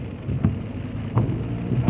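Rain pours down with thunder rumbling through it while driving at night in Divinópolis in 2023. A steady, fairly loud wash of rain carries low thunder swells and a few sharper rolls.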